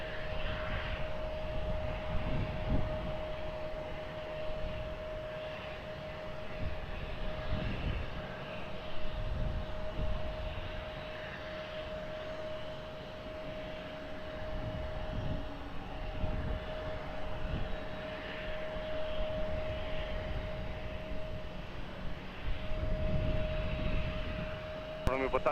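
Airliner engines roar at Lisbon Airport during a takeoff clearance on runway 20, a sustained loud rumble that swells and fades with a steady tone, while radio voices talk over it.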